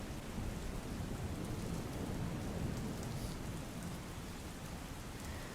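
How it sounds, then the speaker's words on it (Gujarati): Heavy monsoon rain falls over Mangrol in Gujarat as a steady, even hiss with a soft low rumble beneath. The sound is faint but constant throughout, with no voices. "મેઘરાજાએ ધમાકેદાર એન્ટ્રી કરી અને વરસાદી માહોલ છવાયો"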